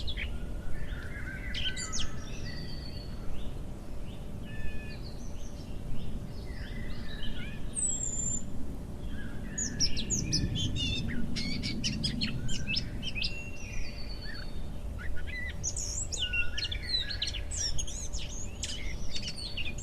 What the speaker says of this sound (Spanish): escuchando el cantar de los pájaros